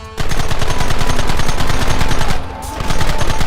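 Rapid automatic gunfire from a Red Dead Redemption shootout, a loud continuous burst of overlapping shots that briefly thins out before resuming.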